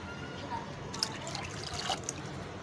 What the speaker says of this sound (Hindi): 2 कप पानी और ऐड करूंगी